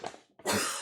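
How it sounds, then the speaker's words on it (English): A woman coughs after inhaling flour while baking madeleines, a short close throat-clearing burst followed by a harsher, louder cough. "Oh, I have to cough."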